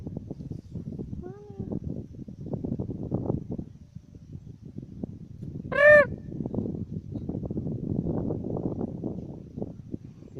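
An eagle calls overhead at the Rammang-Rammang karst nature area: one brief, high, harmonic cry rising above steady background rumble and murmuring voices, with a fainter call earlier.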